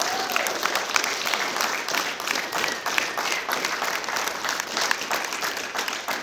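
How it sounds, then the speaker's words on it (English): An audience at a rugby club prize giving breaks into sustained applause, dense crowd clapping held at a steady level throughout. "So I'd like you all just to give them a round of applause,"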